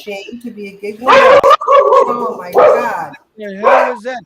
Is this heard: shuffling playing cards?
no